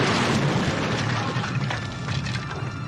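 An explosion in The Monster Squad (1987) sets off a loud, broad rumbling roar with crackling debris and rubble. It stays dense and sustained for about three seconds and fades only slightly toward the end.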